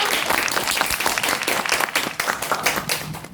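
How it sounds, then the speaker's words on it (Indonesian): Audience clapping and applause fill the whole stretch at a steady, dense level, many hands at close range with no talk over it. "Boleh aplaus ya teman-teman"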